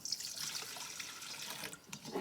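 Water runs steadily from a kitchen tap into a bowl for cinnamon roll dough, a continuous close splashing pour of about two seconds.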